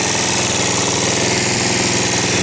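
A freshly rebuilt Honda GV150 engine on a Honda HR-21 lawn mower runs loud and close, holding a steady fast chugging idle with a slight rattling vibration and no voices.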